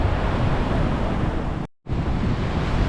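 Ocean surf washes onto a beach in Da Nang, Vietnam, a broad continuous rushing roar with wind buffeting the microphone, briefly cut to silence partway before resuming.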